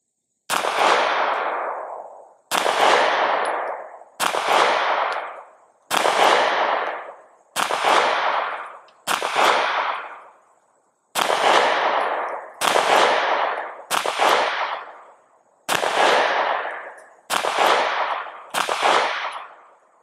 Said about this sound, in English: Now with the self-defense ammunition, it is shooting a little bit higher.